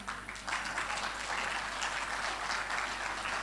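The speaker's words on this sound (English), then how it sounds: "I want you all to clap for yourself." A seated summit audience claps for itself in a sustained wash of applause from many people. It is steady, dense and moderately loud, with a constant low hum beneath it.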